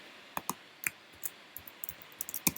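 Sharp, quiet clicks of keys on a computer keyboard, a dozen or so irregular taps spread over a couple of seconds with a firmer final press, close and alone with no talking.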